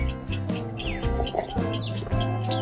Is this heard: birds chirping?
yes